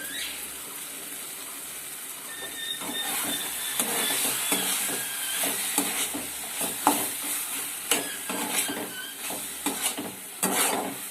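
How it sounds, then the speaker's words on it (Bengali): A spoon scrapes and stirs through sticky taro leaf curry with chickpeas in a pan, giving repeated close knocks and scrapes over a soft, steady sizzle with no voices. "আমি এইভাবে একটু নাড়াচাড়া দিয়ে কিছুক্ষণ টান টান হলে শাকটা লাভিয়ে নেবো"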